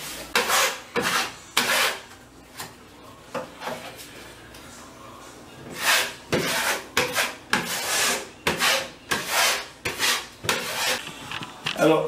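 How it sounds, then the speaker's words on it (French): Trowel scraping a first coat of stucco plaster onto a wall, repeated rhythmic rasping strokes, close and loud, in bursts with short pauses between. "la première couche, c'est simplement la mise en œuvre du stucco"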